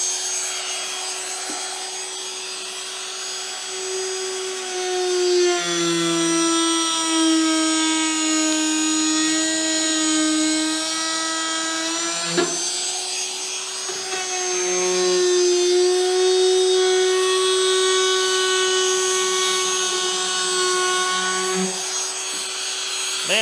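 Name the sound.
router with corner rounding bit rounding edge of boat deck board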